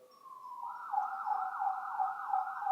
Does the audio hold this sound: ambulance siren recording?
yes